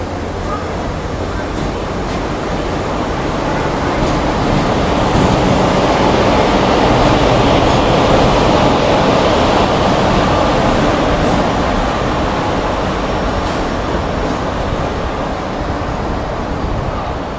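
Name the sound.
Chennai Mail train 16102 arriving at Sengottai station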